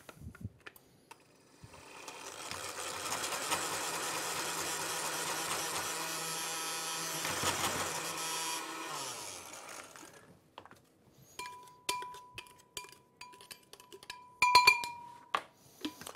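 A food processor whirs steadily for several seconds as it blends a small batch of dessert mixture for tiramisu, stops, and then gives way to light clinks and scraping sounds.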